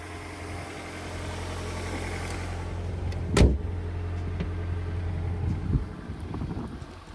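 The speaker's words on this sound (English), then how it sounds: "now that we have the vehicle running" A car engine idles steadily after a jump start, a low continuous hum with a brief loud clunk or knock midway, then the engine keeps running evenly.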